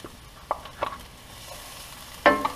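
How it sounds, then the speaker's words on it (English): Garlic goes into heated oil at the bottom of a wide pan for pancit. A soft sizzle runs underneath, broken by a few sharp stirring scrapes and clatters, with no talking. "we're going to start throwing in our garlic"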